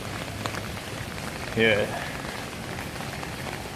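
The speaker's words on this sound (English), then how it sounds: "It's raining. A lot. Oh my goodness. This rain is no joke." Heavy rain pours steadily onto outdoor surfaces on an evening, a dense even hiss throughout, with a brief spoken word partway through.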